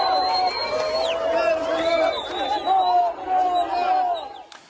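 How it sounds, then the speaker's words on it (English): Crowds celebrating a ceasefire in the streets of Khan Yunis, Gaza, raise loud overlapping cheers, whoops and ululating cries that rise and fall in waves, close by, for several seconds before fading out. "celebrations have erupted in Khan Yunis in Gaza"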